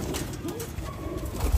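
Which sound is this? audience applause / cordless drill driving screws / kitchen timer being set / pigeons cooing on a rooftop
pigeons cooing on a rooftop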